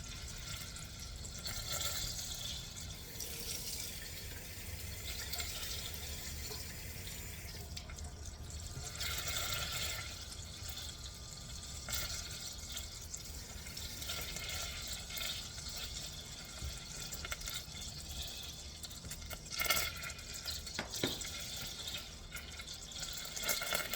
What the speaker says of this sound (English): Now we are going to rinse the rice